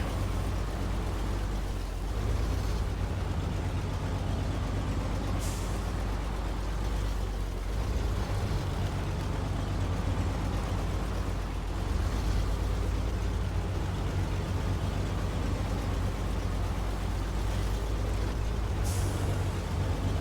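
PayStar truck in SnowRunner crawling in low gear down a rough road, a steady loud low engine drone with airy hiss and brief brake-like bursts, continuous and alone.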